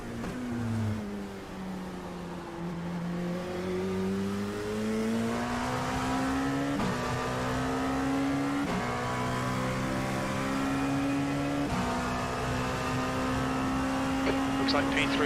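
LMP2 prototype race car engines at Daytona in an iRacing sim race, a steady loud droning whine with rising gear-change sweeps and repeated upshifts, voices of drivers talking over it.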